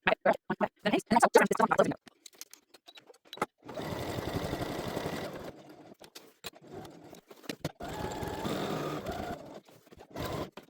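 A sewing machine stitches a zipper pocket in quick, rapid-fire bursts, with short pauses and fabric handling between runs, close and clear.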